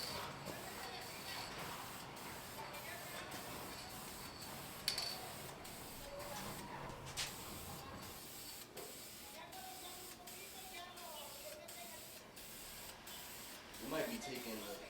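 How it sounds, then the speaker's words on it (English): Spray paint hisses from a can in short, repeated bursts during an interior painting job, the rhythmic spurts fairly faint under occasional voices. "spraying that paint"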